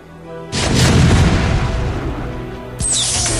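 Tanks firing in a StarCraft battle: a heavy boom kicks in after half a second and rumbles on with a dense crackling barrage, then a second sharp blast lands near the end, loud and close with no talk.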